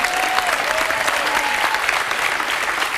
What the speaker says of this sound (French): Bon, on peut les applaudir.